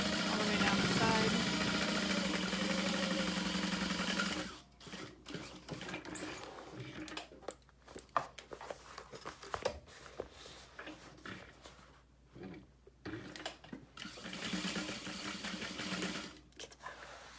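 A sewing machine runs a steady seam down the side of an all-vinyl tote at stitch length 4, humming continuously for about four seconds before stopping. Softer handling noises follow, and a voice speaks afterward.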